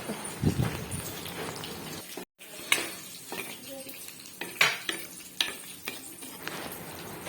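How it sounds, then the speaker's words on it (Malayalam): Busy kitchen cooking noise as sardine curry with bilimbi boils vigorously in a pot: a steady bubbling, sizzling bed and scattered spoon-and-pot clinks, fairly close. "ഇതാ നന്നായി വെട്ടി തിളയ്ക്കുന്നുണ്ട്"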